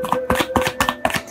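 An Osho Zen Tarot deck is shuffled by hand, making a quick run of crisp, papery riffling bursts in an uneven rhythm, close and clear.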